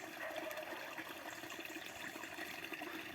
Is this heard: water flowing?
yes